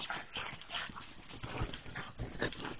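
A pug whimpers and whines close by in a steady string of soft, breathy, high cries, continuous and fairly quiet across the whole short stretch.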